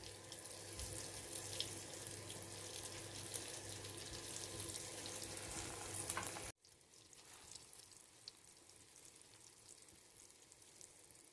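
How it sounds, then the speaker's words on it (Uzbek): Egg-dipped, flour-coated eggplant slices fry in hot oil with a dense, steady sizzle that fills the first six seconds, then drops abruptly to a quieter, continuing crackle. "unga bulab olganlarimizni endi yog'ga qo'yib qovurib olamiz"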